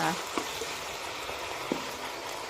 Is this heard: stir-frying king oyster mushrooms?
yes